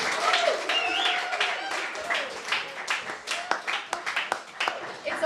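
Audience applause for a musician at a live bar gig, irregular clapping from a modest crowd with loud individual claps, mixed with talking and whistles, thinning out toward the end.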